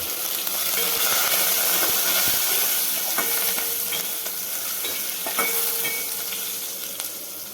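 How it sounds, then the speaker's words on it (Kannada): Onion and curry leaves fry in hot tempering oil for an okra rasam, giving a steady close sizzle with stirring scrapes and crackles throughout. "ಉಳ್ಳಾಗಡ್ಡೆ ಮತ್ತು ಕರಿಬೇವನ್ನ ಹಾಕೊಂಡಿದ್ದೀವಿ"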